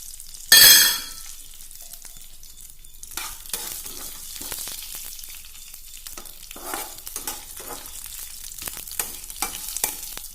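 Mustard seeds and fenugreek fry and crackle in hot oil while being stirred, a sharp loud burst at the start followed by steady sizzling and scraping stir strokes, close and without voices.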